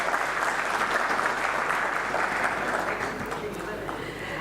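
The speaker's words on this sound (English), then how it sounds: "Can we have a bigger round of applause for him" Audience applause at a live partner meet event, sustained dense clapping filling the room for several seconds, fading slightly toward the end with possible voices mixed in.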